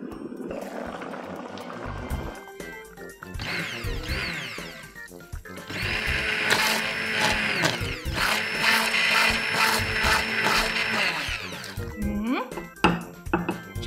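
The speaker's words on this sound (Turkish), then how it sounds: "Şimdi blenderdan geçireceğiz." Whirring bursts from a toy mini kitchen blender pureeing pumpkin soup, with clicks and clatter of plastic parts between runs and someone talking over parts of it.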